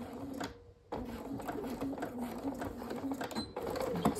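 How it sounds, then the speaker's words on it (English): A sewing machine runs a basting stitch over a zipper pull on a fabric snack pack, a close, steady whirring with brief pauses between passes and no talking heard. "Just sewing over it twice with a basting stitch."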